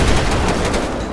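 Game gunfire in GTA 5 with military SWAT mods, a dense, loud burst of rapid shots rolling continuously for about a second with no talk.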